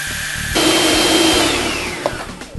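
A food processor whirs loudly as it blends pumpkin pie filling, running in one sustained motor drone that starts abruptly, then slowly drops in pitch and fades near the end.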